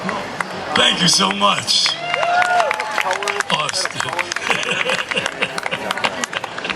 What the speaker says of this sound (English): You don't have to clap, but I feel better when you do.